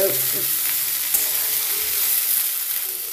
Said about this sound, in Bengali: আমি খুব ভালো করে নেড়ে চেড়ে নেবো।